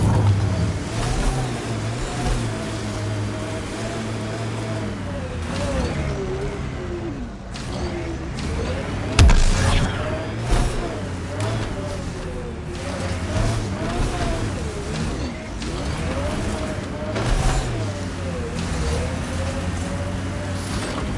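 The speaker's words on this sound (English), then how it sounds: "The Nomad's got safeties if you drive off this mountain" The Nomad vehicle in Mass Effect Andromeda drives over mountain terrain, its engine a steady droning hum with shifting pitch and a brief clunk of impact midway, continuous and close throughout.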